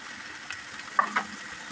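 Spices (salt, cumin powder and coriander powder) fry in a pan with a faint, steady sizzle, broken by a couple of short stirring scrapes near the middle.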